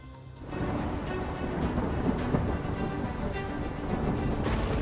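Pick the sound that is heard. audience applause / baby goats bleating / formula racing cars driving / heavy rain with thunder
heavy rain with thunder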